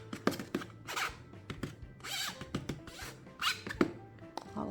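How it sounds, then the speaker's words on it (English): Short scraping and rubbing strokes of ink being pushed through a screen printing screen during two-colour printing, close and moderately loud, several passes with brief pauses between them. "rub this one through"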